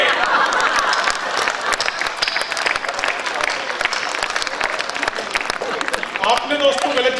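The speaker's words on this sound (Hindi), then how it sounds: "आपने दोस्तों गलत जगह तालियां बजा" Crowd applauding at a Hindi poetry recital, dense clapping with audible audience noise and voices mixed in, fairly steady and then lifting near the end as laughter and chatter rise.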